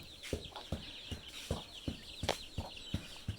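Chickens raised inside a mosquito net cluck in short, repeated bursts at a fairly even rhythm, close by and moderately quiet, over a steady high insect-like background hum.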